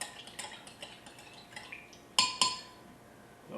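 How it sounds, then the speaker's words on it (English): A utensil stirring a sauce mixture of Lee & Perrins Worcestershire sauce and a teaspoon of rub in a container, light scraping strokes followed by two sharp clinks against the side, close and quiet. "We're going to give that a quick stir."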